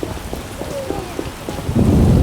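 Storm in the video game The Witcher, with steady rain pattering and a low thunder rumble swelling loudly in the final half second.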